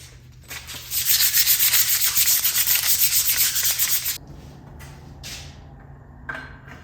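A bicycle handlebar is rubbed by hand to dull its shiny finish, giving a loud, close, rhythmic scrubbing for about three seconds before it stops abruptly, followed by a few faint scrapes.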